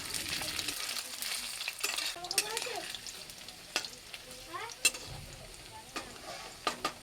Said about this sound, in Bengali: এবার চলো কড়াইয়ে তেল দিয়ে তেলটা ভালো করে গরম হয়ে গেছে তো পনিরগুলো ছেড়ে দিব পনিরগুলো কিন্তু একটু ভেজে নেব